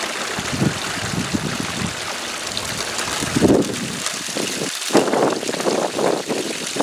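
Water rushes steadily through a Le Trapp sluice set up as a recirculator while dry dirt is tossed in, a loud continuous close-up flow with splashy bursts partway through.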